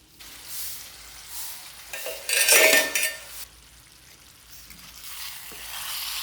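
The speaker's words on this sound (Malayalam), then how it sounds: "ഇടയ്ക്കൊന്ന് തുറന്ന് നമുക്ക് ഒന്ന് ഇളക്കി കൊടുക്കണം." Chicken curry being stirred in a pot with raw rice nearby: a spoon scrapes and clinks against the metal while the curry sizzles softly, with a louder burst of stirring and frying in the middle, no voices.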